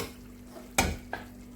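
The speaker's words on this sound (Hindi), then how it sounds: "अब हम इसको भून लेंगे।" Dal makhani being fried and stirred in a pot: two quick spoon scrapes against the pot, the first sharper and louder, over a faint low kitchen hum.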